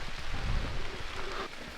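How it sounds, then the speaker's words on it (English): Rain patters steadily on a forest campsite in New Hampshire in fall, a dense, even hiss of drops close by with no voices. "It is raining"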